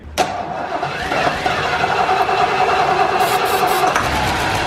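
A 1972 Ford Gran Torino V8 cranks and catches after sitting 17 years, a brief starter whir giving way to a loud, steady idle that runs throughout, with a little talk in the background.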